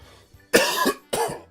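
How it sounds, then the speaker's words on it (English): Two sharp, close coughs burst right into the microphone, a pause between them, with no talking, during a Christmas gaming-news livestream. "Sorry for coughing into the mic"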